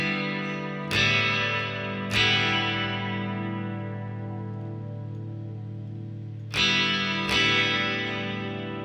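Distorted, heavily processed tones strike four times, each swelling and then decaying slowly under reverb and pitch effects. The tones ring on in long washes between the hits.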